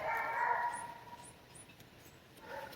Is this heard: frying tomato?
no